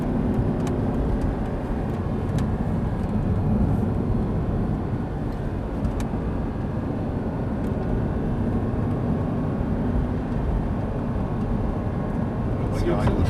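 An Audi R8 accelerates on a race track at Lohéac, its engine a low, steady roar heard from inside the car, while an instructor talks continuously over it and a few faint clicks come through.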